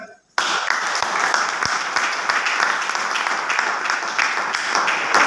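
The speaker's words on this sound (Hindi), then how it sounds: "तो दिल से बजाओ यार ताली।" Dense, loud applause from a seminar audience at a sales training event starts abruptly after a brief pause and continues steadily throughout.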